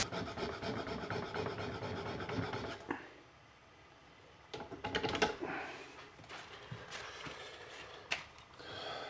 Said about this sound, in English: I'm going to need to sharpen this chisel.